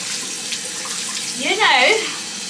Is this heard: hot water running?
yes